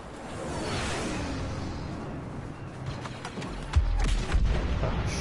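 Explosions in the Star Wars Battlefront shooter: a sustained roar of battle with heavy, muffled booms and rumbling blasts, growing louder toward the end with sharp bursts of gunfire layered over the din.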